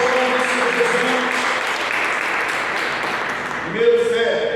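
Sustained applause from a church congregation fills the space during a sermon, a thick wash of clapping that swells briefly near the end while a voice sounds faintly underneath.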